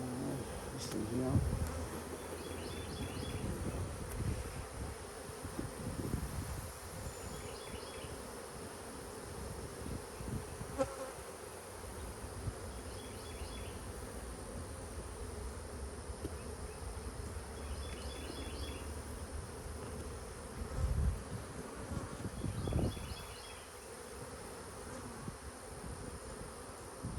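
Bees buzz steadily around an open hive in an apiary, a dense, continuous drone close by, with occasional handling knocks and bumps.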